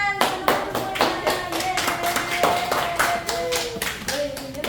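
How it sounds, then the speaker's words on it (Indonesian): Classmates clap after a microteaching presentation, sharp, uneven handclaps repeating through the clip while a tonal voice or music runs underneath. "Boleh tepuk tangan teman-teman semuanya"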